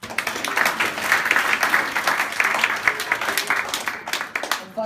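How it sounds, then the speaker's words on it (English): A crowd claps steadily in a dense, continuous round of applause, moderately loud, fading slightly near the end. "I think they also all deserve a round of applause."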